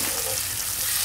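Herring fillets fry in a hot pan, a steady close sizzle and crackle with bright spitting fat that holds constant throughout, with no talking.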